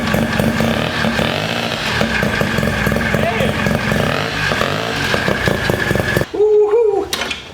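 Rotary-engine ATV fitted with a new driven pulley running hard, a loud buzzing engine roar with clattering and rattling throughout, ending in a sharper rev before cutting off, with voices mixed in.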